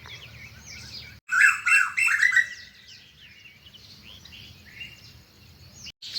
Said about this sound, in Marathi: मस्त हे कोकिळ गाता यांचा आनंद घेते मी